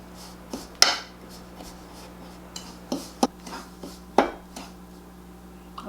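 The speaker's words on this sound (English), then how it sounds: "I'm just going to use a fork to kind of mix it together good." A fork scraping and tapping against a bowl while mixing brown sugar and a tablespoon of cinnamon, giving sparse, close clinks and scrapes at irregular intervals over a quiet kitchen hum.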